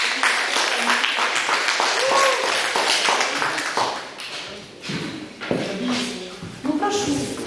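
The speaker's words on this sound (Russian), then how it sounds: "Похлопаем." An audience at a group session breaks into dense, sustained clapping that fills the room, steady for a few seconds, then dipping and swelling again, with voices mixed into it.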